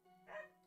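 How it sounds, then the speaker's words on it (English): A single short dog bark from a dog indoors, fairly faint and slightly distant, over a low steady hum, with no talking. "My doggy's barking."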